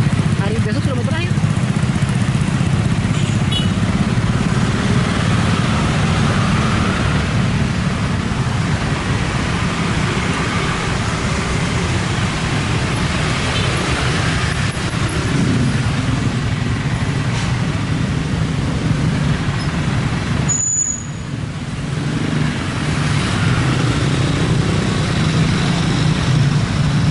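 Cars and motorcycles pass through the busy Cimalaka intersection in heavy holiday traffic. A continuous wash of engine rumble and tire noise runs throughout, with a voice talking over it.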